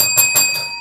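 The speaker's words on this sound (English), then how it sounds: "Get your own bell." A small bell rings twice in quick succession with a bright, shimmering ring that lingers and fades during a live sale broadcast.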